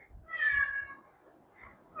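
A cat gives one clear, drawn-out meow close by, followed by a fainter call and the start of another at the very end.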